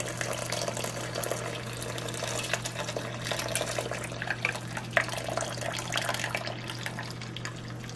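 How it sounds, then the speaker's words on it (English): Brewed cinnamon tea for arroz con dulce poured through a small strainer into a pot, a steady watery pouring and trickling that runs continuously for several seconds over a low background hum, with no talking. "I'm gonna take the tea that I prepared, you see, and I'm gonna come with a little strainer and I'm gonna pour this in"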